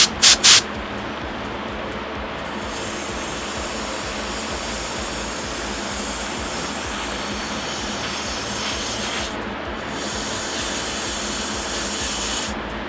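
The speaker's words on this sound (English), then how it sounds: "So now I have my air nozzle." A compressed air nozzle blows steadily to clean a powder coating gun, making a loud, continuous hiss that starts after a few short bursts and holds for more than ten seconds.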